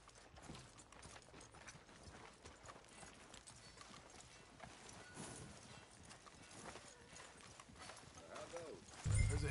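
Horse hooves clip-clop in a steady walking rhythm in a PS4 video game, fairly quiet and continuous, with game dialogue voices layered over it and a louder thump near the end.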